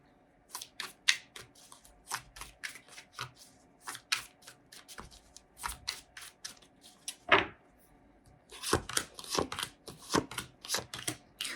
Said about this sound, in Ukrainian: Зараз буду гарно мішати карти